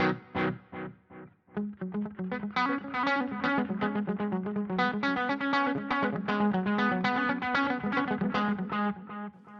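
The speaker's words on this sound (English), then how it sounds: "Here we've got some delay." Electric guitar played through a delay effect on a HeadRush JCM800 rock preset, quick picked notes repeating and trailing into echoes, steady and fairly loud with no talking.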